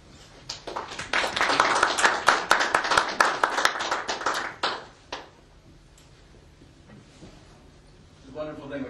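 Applause at a news conference, a burst of clapping that swells and holds for several seconds, then cuts off and fades, with a voice starting near the end.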